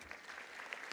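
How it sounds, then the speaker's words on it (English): Audience applause at a graduation ceremony, a short, steady burst of many hands clapping heard faintly and at a distance. "If we could welcome him with a round of applause, everybody."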